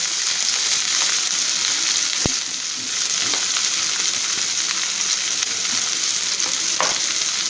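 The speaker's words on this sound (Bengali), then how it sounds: "আর দিয়ে দেবো এখন পেঁয়াজ কুচি" Chopped onion fries in hot oil in a pan, giving a steady, loud sizzle that runs throughout with a few light clinks of stirring, and no voices.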